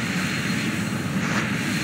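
A fast jet plane's engine drones steadily in a flight game around a carrier landing, a constant loud roar with no breaks and no voices.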